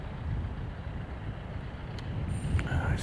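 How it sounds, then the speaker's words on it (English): Gusty wind buffets outdoors at the Anfield Road stand construction site in Liverpool, a fairly faint low rumble with brief thin tones near the end. "Getting a bit gusty again."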